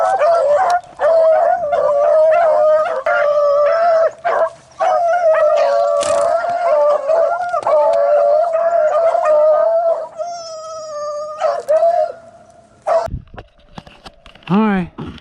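Beagle hounds bay and yip while running a rabbit across a pasture, their loud, overlapping cries close by and nearly continuous, with short whimpering yelps near the end.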